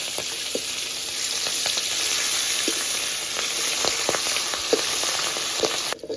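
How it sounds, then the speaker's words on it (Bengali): Pieces of rohu fish fry steadily in hot oil in a pan, a continuous close sizzle and crackle with scattered sharper pops, running alone without voices. "মাছগুলো ভাজা হয়ে গেছে"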